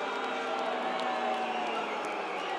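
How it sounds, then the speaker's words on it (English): A home crowd roars and cheers at a Legends Football League game, the 2013 Legends Cup in Australia, Western Australia Angels versus New South Wales: a dense, steady wash of crowd noise holding loud and unbroken throughout. "I love the home crowd getting vocal."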